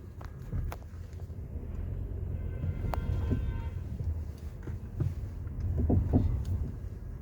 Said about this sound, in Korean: 제자리에서 후진하면 소음이 커요.